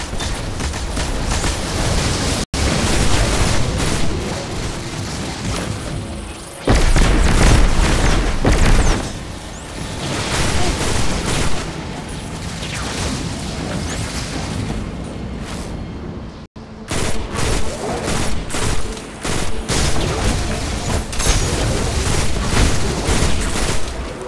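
Explosions and gunfire tear through Vex enemies in the Destiny 2 Backdoor partition mission: dense, loud, continuous blasts and booming bursts over roughly twenty-four seconds, with brief dropouts and no talk.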